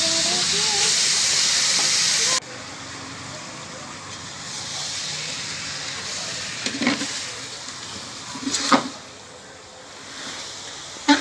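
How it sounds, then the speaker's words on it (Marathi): Chicken for dum biryani sizzles and fries in a pot, a loud hiss that drops away, then steady frying with occasional scrapes and clatters of stirring. "चिकन पातेल्यात पूर्णपणे टाकलं आहे त्याला मध्ये परतून घेऊया"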